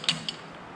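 A lathe chuck being snugged up with a T-handle gives two short metallic clicks close by, then a quiet tail.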